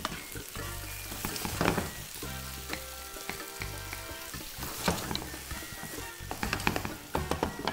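Onions fry in a pan with a lively close sizzle and crackle, punctuated by repeated scraping and clinking as they are stirred.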